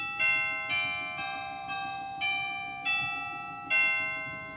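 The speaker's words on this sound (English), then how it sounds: "cathedral chimes," Cathedral chimes on a Wurlitzer theatre pipe organ ring out in a slow series of about seven clear tubular bell strikes, each note decaying into the next, alone and fairly loud.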